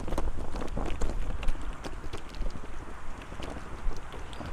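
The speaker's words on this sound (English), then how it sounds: "It's that windy along here." Steady wind buffets the microphone throughout at Goondi Bend, Innisfail, Australia, a rough continuous rumble with gusty swells and scattered thumps, no voices.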